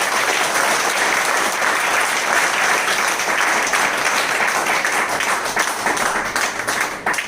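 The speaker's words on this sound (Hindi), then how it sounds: "तो एक बार 15 अगस्त के लिए जोरदार ताली" A large seminar audience gives loud, sustained applause to mark Independence Day, 15 August, an even wash of many hands clapping from start to finish.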